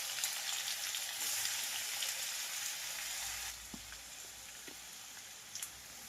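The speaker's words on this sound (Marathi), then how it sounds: "जिरे तडतडल्यानंतर कांदा घालणार आहे फोडणीसाठी." Cumin seeds and onion fry in hot oil for a tempering for dhaba-style whole masoor, giving a dense, steady sizzle that eases partway through into quieter crackling with a few sharp pops, close and alone.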